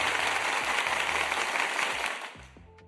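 Dense, steady clapping of many hands rings out loud and continuous, then drops away abruptly before the end, leaving only faint tones.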